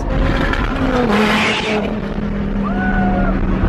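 A Pagani supercar, one of only five in the world, roars loudly close by, a continuous heavy engine drone with rising and falling revs.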